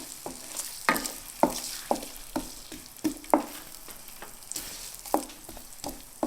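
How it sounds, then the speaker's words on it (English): Ginger sautéing in butter in a pan for a chicken curry: a steady close sizzle broken by a dozen or so sharp spatula stirring scrapes at an uneven rhythm, with no talking. "Now I'm going to put in the ginger first, and we're going to cook up some of the ginger first."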